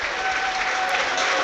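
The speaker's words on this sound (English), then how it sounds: "Now that applause is encouraging from our left-hand side" A football crowd in Blackpool's stadium applauds, a dense, steady wash of clapping from many hands heard at a distance, with no break through the short stretch.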